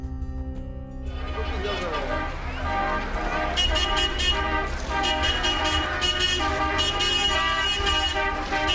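Car horns honking in road traffic, several loud toots and sustained blasts layered over engine and street noise, with a voice talking over them.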